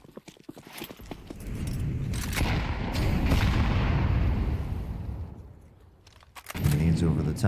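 A Counter-Strike style match plays grenade blasts and gunfire, muffled bursts and rumbling explosions rising and fading over several seconds, followed by a louder burst at the end, with a commentator's voice mixed in.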